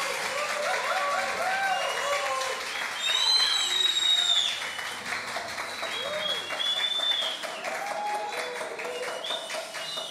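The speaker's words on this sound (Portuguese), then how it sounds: "Uma salva de palmas para Jesus pela vida da nossa pastora." A church congregation breaks into sustained applause during a Sunday service, dense clapping carried steadily throughout with singing or voices threading through the crowd noise.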